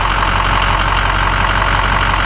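A Ford Powerstroke 6.0 diesel engine, suspected of a head gasket or EGR cooler fault, runs close and loud in park after being revved, a steady rough idle with a continuous knocking diesel clatter and no talking.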